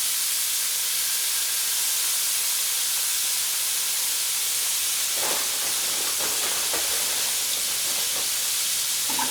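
Shrimp dropped into a hot pan give a steady hissing sizzle throughout, with sharper crackling spatters joining in about halfway and continuing to the end.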